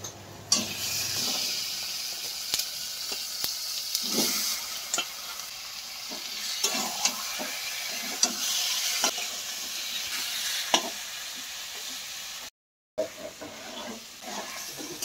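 Chicken pieces frying in a spiced masala for a Bengali kosha curry, loud steady sizzling with repeated scraping clicks of a spatula stirring the pan, one brief silent gap near the end.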